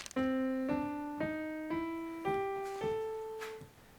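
A plucked instrument plays a major blues scale slowly ascending, seven clear notes each ringing before the next, with no voices.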